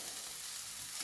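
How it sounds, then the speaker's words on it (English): Minced meat sizzles and fries in a pan for lasagne, a dense, steady crackling hiss with no voices. "We'll put the mince in."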